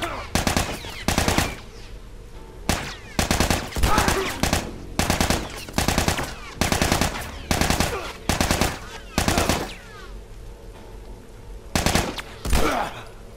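Gunfire in the video game The Last of Us: a long run of loud, close bursts of shots in repeated clusters, with short gaps between volleys.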